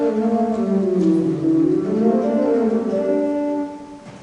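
A steady church pipe organ plays a sustained melodic line on the principal keyboard with full, bright tones, notes overlapping smoothly for several seconds before fading.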